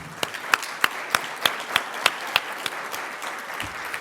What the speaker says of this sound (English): I just ask you to give them another round of applause.